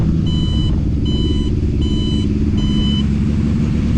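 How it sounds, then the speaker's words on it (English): A Honda CB750 motorcycle's turn signal indicator gives a loud, evenly spaced beeping tone, four pulses in a steady rhythm over a constant idling engine rumble. "One of the quirks of the bike is the super loud indicator noise."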